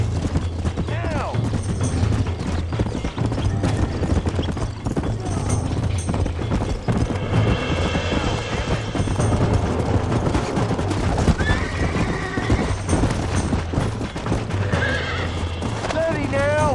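Horse galloping and neighing in the video game Red Dead Redemption, with loud repeated whinnies over steady clip-clop hoofbeats while someone shouts commands over them.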